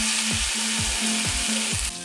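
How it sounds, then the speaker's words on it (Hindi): Grated raw potatoes fry in a hot pan with a steady, continuous sizzle, while a utensil scrapes and stirs in a regular rhythm of about four strokes; no one speaks. "अब हम डाल देंगे इन ग्रेट किए हुए आलूओं को"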